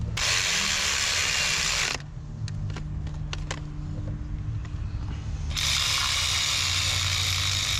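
A hand ratchet clicks in short, quick bursts as it tightens a ground bolt on the 3.0L engine of a 2002 BMW X5, the ticking heard close against a steady background hum between louder noise at start and end.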